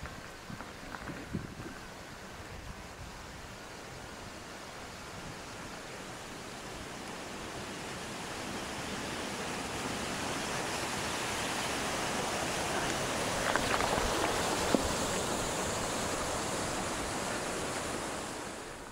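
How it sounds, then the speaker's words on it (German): Steady, broadband rush of the Valo waterfall near the Salarno lakes in the Alps, a continuous roar that swells slightly louder toward the middle and holds without talk. "Bei der Bank kann man ein paar Meter zum Wasserfall des Valo hochgehen"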